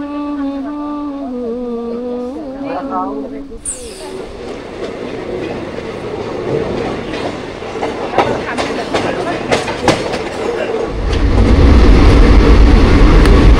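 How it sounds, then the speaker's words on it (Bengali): A train rumbles along with clattering wheels and rising roar, growing louder and more enclosed toward the end as it passes through a tunnel; a voice is heard briefly at the start. "ট্রেনটা এখন টানেলের মধ্যে দিয়ে যাচ্ছে, অন্ধকার আর শুধু লাইট জ্বলছে।"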